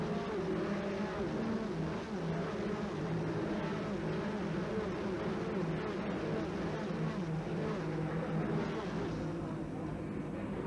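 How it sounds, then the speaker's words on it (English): NASCAR race cars at the 1990 Budweiser 200 drone steadily through the whole stretch, a continuous mid-distance engine roar with pass-by swells, under faint commentary. "There's the car number 30 of Waltrip"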